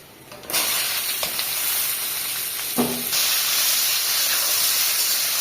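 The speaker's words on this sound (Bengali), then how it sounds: "ভাজতে নিচ্ছি কুমড়ো। এটা হচ্ছে ভাজা।" Pumpkin frying in a pan in a village kitchen gives a steady, loud, close sizzle and hiss that continues throughout. A few brief clicks and knocks from the cookware break in now and then.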